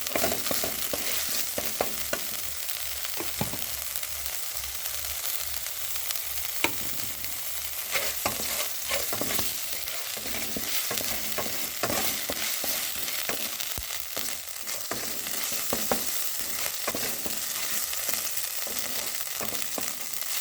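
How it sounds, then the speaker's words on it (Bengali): Cumin and chili crackle in hot oil in a wok, a continuous dense sizzle heard close and alone for the whole stretch, with occasional stirring ticks as curry goes back into the pan. "জিরে মরিচটাকে সুন্দরভাবে ভেজে নিয়ে তরকারিটা আবার ঢেলে দিতে হবে কড়াইয়ের মধ্যে।"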